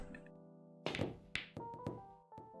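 Cue strikes in a Roblox 8 Ball Pool game: a few sharp, short knocks of ball contact, loud and close, spaced unevenly over steady background game music.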